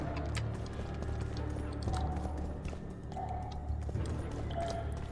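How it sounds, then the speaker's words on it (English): Footsteps in The Witcher 2, a steady run of soft clip-clop steps under a dense bed of ambient game sound, with no one speaking. "And there's footsteps somewhere."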